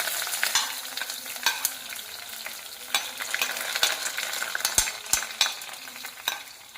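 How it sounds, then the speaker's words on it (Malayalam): Sliced onions sauté in hot oil with fenugreek seeds and curry leaves for a Kerala-style prawn roast. A dense, crackling sizzle rises and falls under frequent quick spatula scrapes and a few sharp knocks against the pan. "സവോള ഒന്ന് ജസ്റ്റ് ഒന്ന് വാട്ടിയെടുക്കാം"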